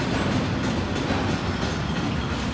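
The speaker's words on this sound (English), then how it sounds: "There's another train. That is a long one." A long train passes close by in Nottingham, a steady continuous rumble with rhythmic wheel clatter throughout, loud and unbroken.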